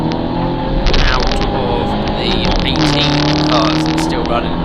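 Classic hatchback race cars roar past at Snetterton, engines revving and droning loudly as the pack passes close, while a commentator talks over the din.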